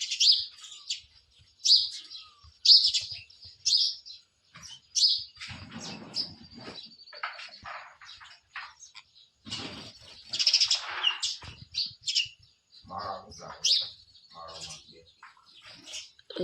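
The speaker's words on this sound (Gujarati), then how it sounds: "હા માળાઓમાં એક ચકલી." Sparrows chirp at their nests in repeated bright bursts of tweets, close and lively, with brief pauses between calls and a few rustles.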